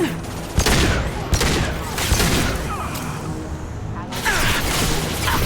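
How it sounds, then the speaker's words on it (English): Heavy gunfire in a Mass Effect 2 firefight, sharp repeated bursts of shots at irregular intervals, loud and close, with combat noise and voices mixed in. "Taking heavy fire."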